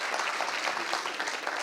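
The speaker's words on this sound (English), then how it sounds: "A loud round of applause for him, please." An audience applauds warmly at an evening talk, dense continuous clapping from a full room, fairly close and steady for the whole stretch.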